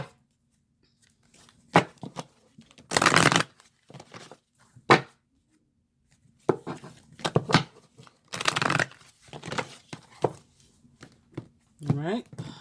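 A deck of tarot cards is shuffled in bursts of riffling and flicking, close and fairly loud, between stretches of quiet, with someone speaking softly in between.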